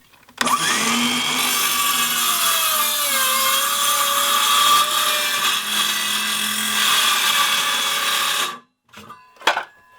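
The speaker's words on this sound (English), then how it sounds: "I'm just kind of chiseling these pieces out here." Power tool cutting wood pieces out while building a compost toilet in a tiny house, a loud continuous whirring grind with shifting pitch running close for about eight seconds, then stopping, followed by brief knocks.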